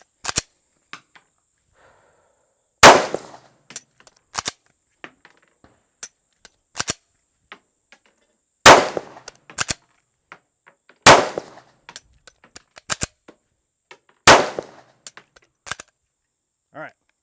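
Live handgun rounds fired during a ball and dummy shooting drill, several loud sharp gunshots spaced a few seconds apart with quieter clicks and metallic handling noises between them, close and echoing briefly.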